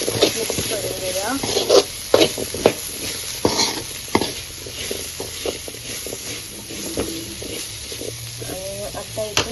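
A spiced potato dish frying in a pan is stirred, giving a soft sizzle and hiss broken by scraping and clinking utensil strokes, with someone speaking at moments.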